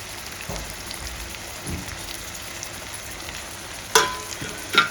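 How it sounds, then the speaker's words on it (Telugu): Pieces of eggplant sizzle and fry in hot oil in a pan on the stove, a steady close crackle with a couple of sharp utensil clinks near the end, no talking. "ఇవి బాగా ఆయిల్లో వేగల్లా వేగనిద్దాము వంకాయలను"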